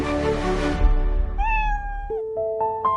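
A kitten meows several times, first with a long drawn-out wail, then a few shorter, higher cries, clear and close.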